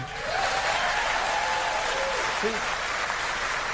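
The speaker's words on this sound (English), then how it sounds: "Even the cover gets applause." Steady applause from a large crowd, dense and continuous throughout, with faint voices mixed underneath.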